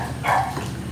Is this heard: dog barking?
yes